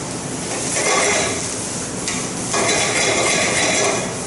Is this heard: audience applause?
no